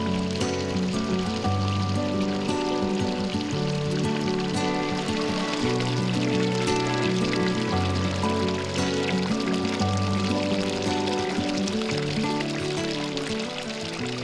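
A continuous, loud rush of flowing hot spring water in a Java jungle, steady and unbroken, like a large stream pouring nearby with no talk.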